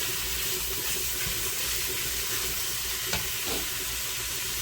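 Sausage frying in a pot for red beans and rice, a steady dense hiss of sizzling fat filling the whole stretch, with one faint utensil tap partway through and no speech.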